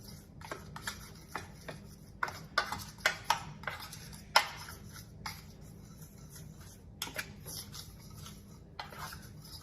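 Metal utensil clinks and taps against a bowl while seasoning mixed with garlic powder is stirred together, a quiet irregular rhythm of light ticks over a soft background hum.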